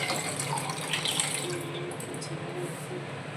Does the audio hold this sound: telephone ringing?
no